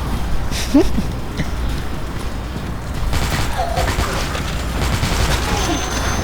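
Scattered gunshots from Dead Trigger 2, moderately loud bursts and mechanical clacks over a steady background, mixed with someone speaking Thai.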